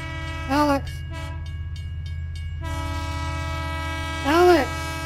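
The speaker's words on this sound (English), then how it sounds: "I have to wait for a train to cross." A train horn sounds twice in loud, sustained blasts, with the steady low rumble of rail cars rolling past in between.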